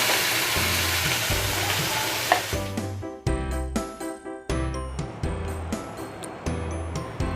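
Chicken curry sizzles loudly as it is sautéed and stirred in a pan, with a dense frying hiss at first, then rhythmic spatula scrapes and clanks against the pan over the continuing sizzle.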